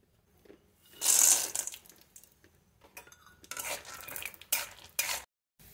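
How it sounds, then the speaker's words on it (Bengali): Peanuts frying in oil in a pan, stirred in several short bursts of scraping and rattling with faint sizzling between them, close by and with no voices. "প্রথমে বাদামগুলো ভেজে নেব।"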